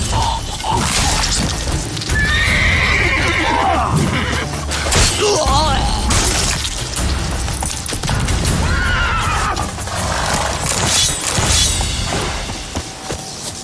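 Horse whinnies ring out repeatedly amid a busy mix of clattering hooves, whooshes and crashing effects in the video game The Witcher 3, loud and continuous throughout.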